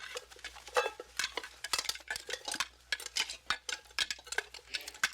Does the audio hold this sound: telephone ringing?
no